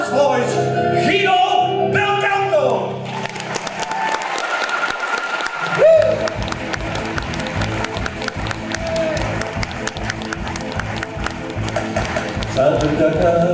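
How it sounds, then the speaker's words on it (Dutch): Hall audience breaking into loud applause and cheering for their maestro at a ballroom show, building from music into sustained crowd clapping that runs throughout, with voices mixed in. "applaus van heel het jaar nu meteen voor onze maestro"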